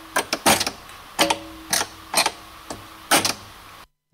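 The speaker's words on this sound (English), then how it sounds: "Is the mystery noise manually setting a register box?" A pipe organ register box being set by hand in a repair workshop, heard as a series of about eight sharp, close wooden-mechanical clacks and knocks in uneven bursts, ending abruptly.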